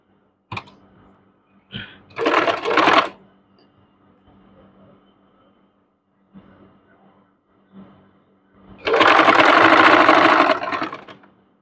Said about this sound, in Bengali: মিলিয়ে ধরে দুই সাইড থেকে আমরা সেলাই দিয়ে নেব।